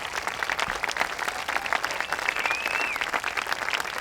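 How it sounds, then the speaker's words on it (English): Steady audience applause fills a neighborhood association's annual state-of-the-neighborhood meeting, dense and continuous for several seconds, with a brief whistle rising above the clapping near the end. "let's give them a really big hand of applause"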